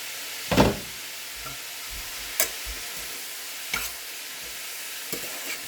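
Vegetables frying in a pan for a millet-flour dosa dish, a soft steady sizzle with a few distinct scraping clacks of the spoon as it is stirred.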